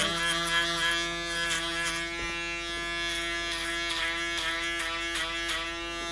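An electric foil shaver buzzes steadily during a barber haircut, a close, continuous hum that shifts slightly in pitch as it moves over the head.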